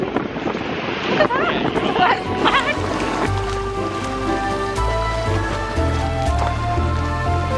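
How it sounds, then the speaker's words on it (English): Crashing waves break hard on a pebbly beach at Nice on the French Riviera, with a loud continuous roar, rattling surf and gusts of wind noise on the microphone. "I don't think I've ever seen waves quite so crazy."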